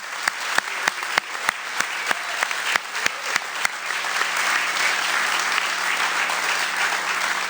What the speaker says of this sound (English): Let's give a round of applause for the Dream Team and all the athletes.